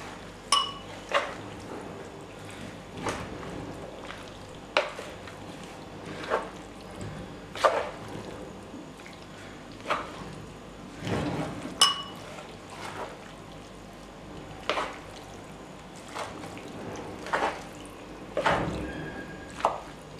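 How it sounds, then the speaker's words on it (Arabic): Ingredients mixed together in a dish for a quick, nourishing dinner, giving soft wet squishes and occasional clinks of a utensil against the dish in an irregular rhythm, close and fairly quiet, with no talking. "وغادي نخلط جميع المكونات"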